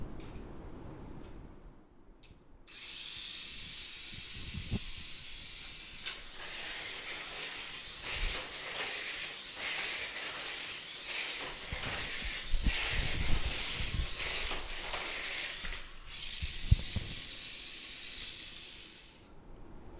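Stock Mini4WD Desert Golem replica car whirring around a plastic toy track, a steady high-pitched motor hiss with periodic rattles and clicks as it hits corners and lane changes, running continuously for about twenty seconds.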